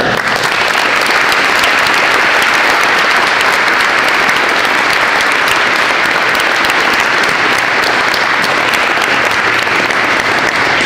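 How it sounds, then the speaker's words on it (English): Loud, sustained applause from an audience at a veterans assembly honoring Medal of Honor recipients, a dense steady clatter of many hands continuing evenly throughout without a break. "Listen, we have a round of applause for them."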